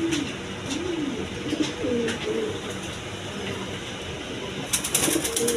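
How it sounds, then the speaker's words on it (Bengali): Blazer pigeons coo repeatedly nearby in soft, wavering calls, with a brief flutter of wings near the end. "দর্শক এখানে এক পেয়ার ব্লেজার কবুতর"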